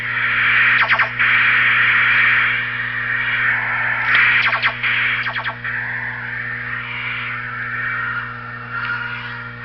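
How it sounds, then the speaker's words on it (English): Several short bursts of buzzing, distorted electronic zaps fire in quick clusters over a steady hum, a Star Wars Smart Play toy starfighter's laser firing effect. "you can pull this little trigger and it sounds like it's firing."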